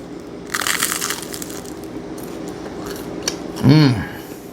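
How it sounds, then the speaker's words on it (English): Garlic bread is bitten and chewed, giving a few brittle crunches early on followed by a louder close crunch near the end, with faint background noise and no clear talk. "let's try some of this garlic bread. Oh, that crunch."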